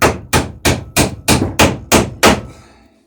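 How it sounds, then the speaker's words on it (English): Eight sharp, evenly spaced hammer blows drive a nail through a boat plank near the transom, each strike loud and close, ending in a brief ringing decay. "I just want to put this nail right in straight."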